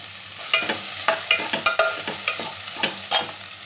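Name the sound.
stir-frying ginger, garlic, green chilies and carrot in a pan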